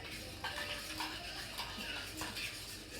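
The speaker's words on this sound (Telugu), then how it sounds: "కలుపు కలుపు బాగా." A spoon stirs a strawberry jelly mixture in a pot, faint scraping and clinking strokes repeating at an uneven pace against a soft background hiss.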